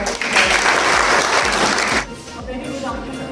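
A hall audience at a college International Women's Day event bursts into applause welcoming a speaker, a dense roar of clapping for about two seconds that then drops away to quieter room sound.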